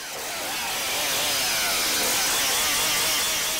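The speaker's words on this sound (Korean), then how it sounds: "언제 고장 났나 싶게 전기톱이 경쾌한 소리를 내며 작동합니다." A repaired chainsaw engine drones loudly and close, its whine rising and holding steady as the motor revs up.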